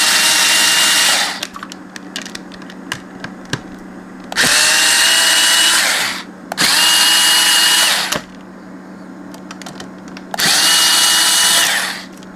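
A power screwdriver whirs in four loud bursts, each a few seconds long, with quiet gaps of small clicks between, while clamps are undone on a Revox reel-to-reel tape machine.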